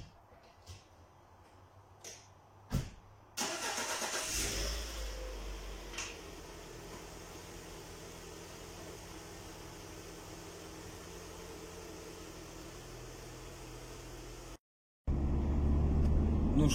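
A car engine cranks and catches after a couple of clicks, then runs as a steady, even hum while the car drives off, with a louder rush near the end.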